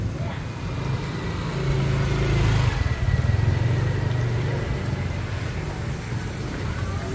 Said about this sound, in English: Watch the motorbikes though, they're still coming through here.